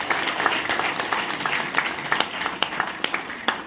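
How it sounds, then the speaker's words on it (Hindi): An audience in a hall applauds to welcome new members, steady dense clapping with scattered sharper claps standing out, moderately loud throughout with no talk. "एक बार इनके लिए जबरदस्त जोरदार तालियां चाहूंगा"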